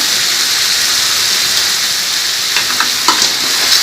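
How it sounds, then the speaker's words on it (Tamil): Spices including cumin powder and chicken masala sautéing in a pan for a sea crab gravy, sizzling loudly and continuously up close, with a few stirring scrapes toward the end and no talk. "தூவிட்டு நல்லா வதக்கலாம்"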